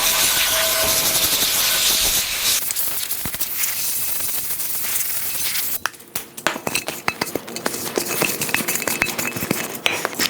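Compressed air hisses out in strong bursts to blow dust out of a cracked bowl, then gives way to a run of sharp clinks and rattles. Nobody speaks.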